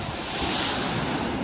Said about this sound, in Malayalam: ആ പാറയും അവിടെ വെള്ളം തട്ടി ചെതറുന്ന കാഴ്ച നല്ല മനോഹരമാണ്